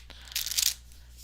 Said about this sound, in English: So look, I'm going to shuffle here.